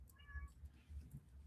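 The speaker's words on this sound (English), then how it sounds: "I don't know which cat that is, but that's going to drive me nuts." A cat gives a short, faint meow from somewhere nearby at a low level, set against a quiet, rumbling background with no speech.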